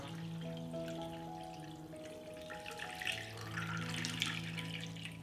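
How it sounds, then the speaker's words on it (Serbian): Hot water poured into a pot holding glass jars on a cloth, a faint steady pouring rush under a lingering tonal ringing. "U šerpu sipam vruću vodu do visine poklopca."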